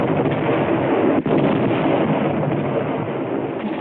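Mortar and artillery fire in Pacific combat, a loud, continuous roar of heavy gunfire and blasts with one sharp break partway through, dense and rumbling throughout with no voices.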